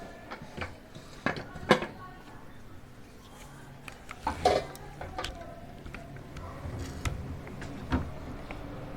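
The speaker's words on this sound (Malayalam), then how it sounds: "നമുക്കിനി കുക്കറിൻ്റെ ഈ ലിഡ് ഒന്ന് ഓപ്പൺ ചെയ്യാം." The lid of a pressure cooker used to bake a plum Christmas cake is opened after the stove is switched off, giving a few sharp metallic clanks and rattles amid quieter kitchen handling noise.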